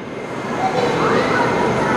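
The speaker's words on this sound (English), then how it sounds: "As another train pulls up" A Moscow Metro train pulls into a station, its hum and rail rumble rising and swelling to a loud, sustained roar with a faint tonal whine over it.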